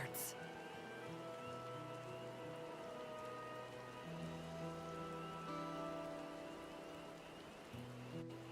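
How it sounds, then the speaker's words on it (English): Soft rain patters steadily in the video game Final Fantasy XIV: Dawntrail over a quiet ambient backdrop with low sustained tones and frogs, gentle and continuous. "I love the sound of the like frogs and the rain down here."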